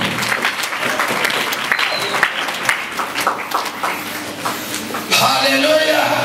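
Many worshippers in a church keep clapping their hands, a thick, unbroken wash of applause that grows louder near the end, mixed with voices.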